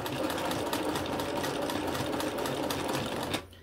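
A sewing machine stitches in a fast, steady mechanical whir with evenly spaced needle strikes. It runs close and continuous for several seconds, then stops abruptly.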